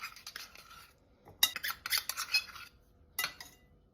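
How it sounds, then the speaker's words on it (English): Butter being dropped into a large bowl in a kitchen, heard as a few scattered clinks and scrapes of utensils against dishware, fairly close, with quiet pauses between bursts. "let's go ahead and start adding our butter to a large bowl."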